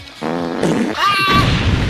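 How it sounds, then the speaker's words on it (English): A comedic fart sound effect dubbed over Kirby gameplay, a loud blubbery rasp rising and breaking into a longer buzzing squeal, close and prominent with no talk over it. "play a fart sound effect every time there's a puff of smoke coming from the gun"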